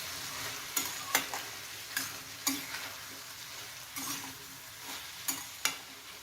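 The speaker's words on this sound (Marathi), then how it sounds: "आता यामध्येच आपण फ्लावर टाकून घेऊ। आता छान आपल्याला हा सगळं मिक्स करून घ्यायचं आहे।" Cauliflower for a sabji frying in a pan, with a soft continuous sizzle under intermittent sharp scrapes and clicks of a spoon stirring against the metal, roughly a dozen strokes at an uneven, unhurried pace, close and fairly quiet.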